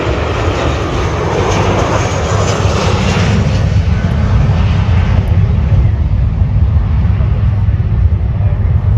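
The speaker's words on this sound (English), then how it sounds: "we can see that Poseidon is set up for his arrival sequence" A P-8A Poseidon aircraft flies past at an air show, producing a loud, steady jet roar that holds throughout with broad rushing noise and no pauses.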